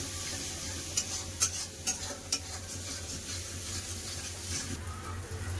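Ground chili and turmeric with a splash of water being sautéed in a pan for a thin potato and meat curry, a soft, low sizzle with a few sharp spatula taps against the pan early on.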